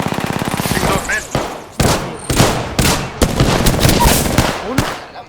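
Loud, rapid bursts of automatic gunfire from Apex Legends gameplay, several sharp volleys crackling one after another with brief gaps between them.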